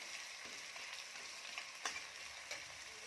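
Chopped onions, five to six large ones, fry in oil with a pinch of salt for Kolhapuri mutton, a steady close hiss with a few brief stirring clicks and no talking.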